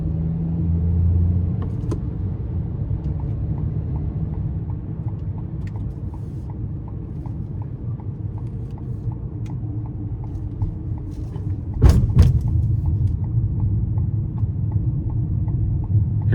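Low engine rumble inside a 2025 Ford Maverick XL AWD 2.0 pickup accelerating onto an interstate, steady road drone that swells as the engine pulls harder, with a sharp clunk partway through.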